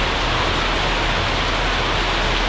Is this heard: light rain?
yes